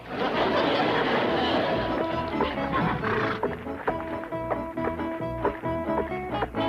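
A horse whinnies loudly at the start, followed by clopping and other rhythmic, tonal sounds continuing underneath.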